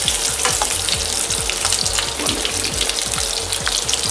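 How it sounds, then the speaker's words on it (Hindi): Boiled baby potatoes fry in hot oil with a dense, steady close-up sizzle and crackle, broken by repeated rhythmic bubbling pops and no talk. "आलू फ्राई हो चुका है"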